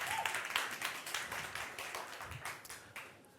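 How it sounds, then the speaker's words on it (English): A pitch battle audience claps for the first pitching team, a fairly quiet, scattered burst of hands with distinct individual claps rather than a full roar. "I'd like to invite the first pitching team, with a huge round of applause"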